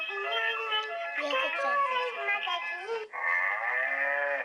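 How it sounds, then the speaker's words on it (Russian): An educational children's toy's electronic cow moo, bright and harmonic with a slight buzzy quality, sounding twice in a row, close and fairly loud. "Корова."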